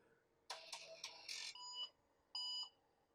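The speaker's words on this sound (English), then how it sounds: "I feel like it's kind of beeping more too." An IBM PS/2 Model 55SX computer beeps at startup: a cluster of rapid, bright electronic beeps in quick succession, then a sustained tone and, after a short pause, one more steady beep, fairly loud and close with no talk.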